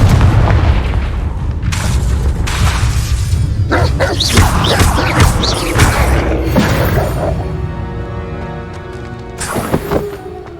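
Confringo explosive spell blasts in Hogwarts Legacy, loud booming detonations with whooshing bursts and crackling debris, layered over a deep rumbling game soundtrack with a tonal swell toward the end.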